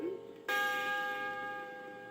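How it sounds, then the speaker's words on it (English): A bright electronic chime from a 1979 Kid Stuff read-along book record, a single struck tone that rings on with steady sustained harmonics and slowly fades, heard alone after a brief faint lead-in. "Every time you hear this chime,"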